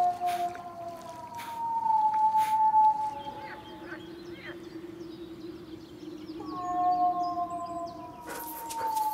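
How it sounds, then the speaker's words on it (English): A young wolf howls from a distant valley, long sustained tonal howls that rise and fall, with a second long call after a pause, faint over a steady outdoor hiss. "Far away in another valley, a young wolf has heard our calls."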